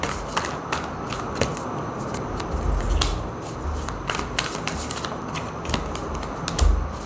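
Tarot cards handled and shuffled for a pick-a-card love reading, giving a steady run of soft papery flicks and taps at close range, with no talking.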